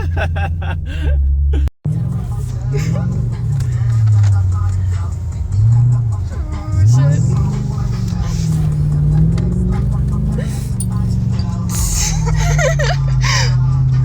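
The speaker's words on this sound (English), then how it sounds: "here's some driving clips of the car with the shift kit and the new oil pump seals installed" A Lexus LS400 with a Trans-Go shift kit and new oil pump seals drives along, its steady engine drone rising and falling through gear changes, loud and close from inside the cabin, with people chuckling and reacting over it.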